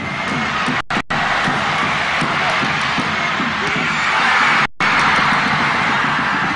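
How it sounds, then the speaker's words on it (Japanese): Supporters at a 1996 J.League football match for Kashiwa Reysol, after a golden-goal extra-time defeat, applaud and cheer as a dense, steady crowd roar that fills the stadium, with brief drops in the sound. "しかしサポーターの拍手は温かかった"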